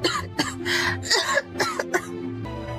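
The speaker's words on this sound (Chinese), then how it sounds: "这咳嗽起来是真疼啊" A woman coughing and clearing her throat in a rapid series of harsh, close hacks, several sharp bursts in a row, loud and alone with no talking.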